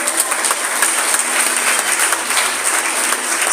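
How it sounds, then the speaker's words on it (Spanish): Congregation applauding together in a church service, a steady dense wash of clapping that holds at an even level for the whole stretch with no talk over it. "Denle ese fuerte aplauso a Dios."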